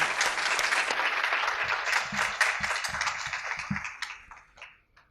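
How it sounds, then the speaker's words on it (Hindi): An audience at a Hindi campus poetry event applauds a poet taking the stage, a loud, dense burst of clapping that thins out and fades over about five seconds. "गौरव के लिए ज़ोरदार तालियां हो जाएं"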